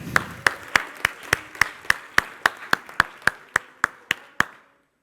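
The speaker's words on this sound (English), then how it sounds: "a big round of applause for all of the scale-ups here at the event" Slow, evenly spaced claps ring out one after another, about sixteen crisp strikes with a slight room echo, then stop abruptly; it sounds like a single pair of hands leading applause at a startup conference.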